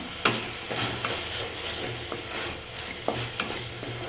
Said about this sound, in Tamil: வெங்காயம் தக்காளி வதங்கிறதுக்கு நம்ம கொஞ்சமாக உப்பு சேர்த்துக்கலாம் சேர்த்து நல்லா வதக்கிக்கலாம்